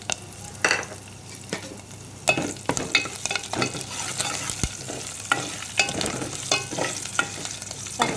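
Curry leaves, garlic cloves and dried red chillies sizzle and crackle in hot oil for a South Indian tempering, with repeated stirring and scraping sounds over a steady frying hiss, close by and with no talking.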